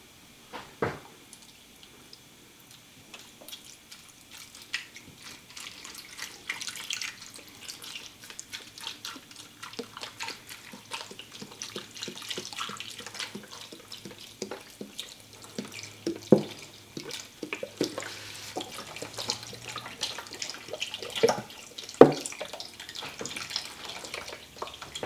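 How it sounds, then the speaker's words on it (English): Beef broth from a 32-ounce box pours into a crock pot, giving a soft, continuous liquid splashing and trickling over about 25 seconds, with faint clinks and knocks along the way. "Now I'm going to go ahead and put the beef broth."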